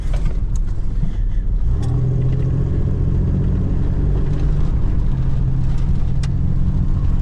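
A car drives up toward an old railroad grade in rural Montana, its engine rumbling low and steady with road and wind noise throughout, close and continuous.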